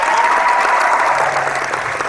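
A round of applause plays as a sound effect on a live-streamed hangout show: loud, even clapping from a sizable crowd, continuous and uniform from start to finish.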